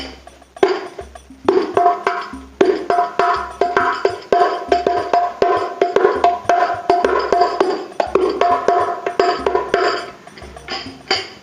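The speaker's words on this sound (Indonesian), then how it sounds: "Jadi ini adalah suara hadronya dan suaranya sudah disesuaikan." Several hadroh frame drums, tuned and adjusted, play together in a lively, rhythmic pattern of sharp slaps and deeper thumps, with no talking.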